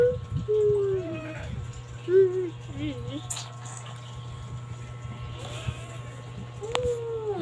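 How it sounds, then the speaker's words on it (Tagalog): A cat meows several times at close range, short tonal calls scattered over a low steady hum, with a few other soft noises. "Naglalaro sila ng pusa."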